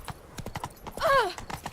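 Roach the horse's hooves clip-clop in a steady, close rhythm in The Witcher III, with a brief whinny-like tonal call in the middle and faint talk underneath.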